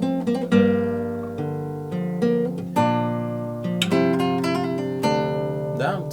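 Acoustic guitar plays a melodic phrase with hammer-on and pull-off ornaments, notes ringing clearly and close-up, no voice over it.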